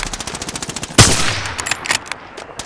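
A sharp, loud burst of gunfire in Call of Duty: Modern Warfare, followed by scattered shots and rattling automatic fire over the next second or so.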